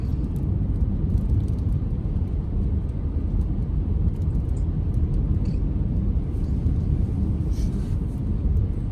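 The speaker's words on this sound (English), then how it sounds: "'17 Ford Escape, all-wheel drive." A 2017 Ford Escape with all-wheel drive climbs a mountain pass in fourth gear, its engine and road noise forming a steady, dense low rumble heard from inside the cabin.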